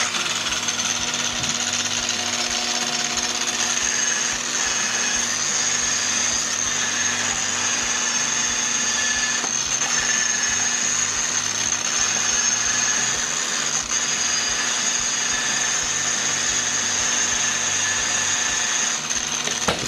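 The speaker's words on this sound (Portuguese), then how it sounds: "Roda de pano ondulada, ela consegue deixar o acabamento mais alinhado, ela tira alguns pequenos defeitos e é ideal para pasta azul" A polishing machine spins a wavy cloth buffing wheel used with blue compound for a mirror finish, giving a steady, loud, continuous whirring drone with no break and no speech.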